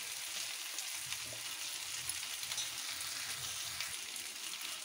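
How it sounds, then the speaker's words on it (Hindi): Dry spices—salt, turmeric and coriander powder—fry with potato, cauliflower and pea vegetables in a pan, giving a continuous close hiss and sizzle with faint stirring scrapes underneath, no talking. "सारे सूखे मसाले को हम 2 मिनट सब्जी के साथ भून लेते हैं ताकि मसालों का कच्चापन खत्म हो जाए"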